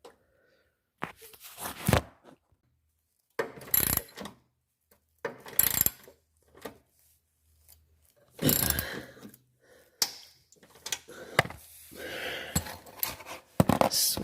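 A hand ratchet tightens the running board bolts on a 2017 Ford Explorer, giving bursts of close, crisp clicking separated by quiet pauses, with metallic tool handling between strokes.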